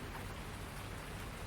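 Steady rain falls in Farming Simulator 19 while a truck pulls a long trailer across a farm with a wood deck, a dense, even hiss holding at constant loudness throughout with no voices.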